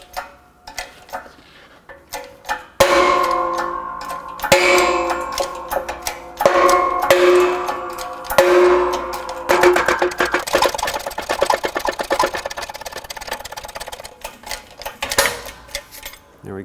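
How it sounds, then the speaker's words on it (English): A press pushes the front lower strut fork bushing out of an Acura TL control arm, with ratcheting clicks and creaking metal strain building under pressure before a louder pop and rattling. "My press is exactly the width that it needs to be to press out the bushing here"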